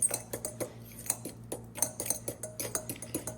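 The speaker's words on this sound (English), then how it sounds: "you're now breaking the actual egg apart and mixing it with that mayonnaise" A fork taps and scrapes rhythmically against a bowl while mashing boiled egg yolks with mayonnaise for deviled eggs, giving quick, close, evenly repeated clicks over a faint steady hum.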